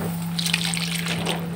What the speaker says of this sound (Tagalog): pwede na rin po tayong maglagay ng tubig natin pong pangsabaw